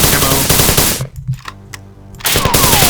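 Rapid automatic gunfire in the video game Marathon, loud dense bursts of shots that stop for about a second with scattered clanks and then resume at full intensity.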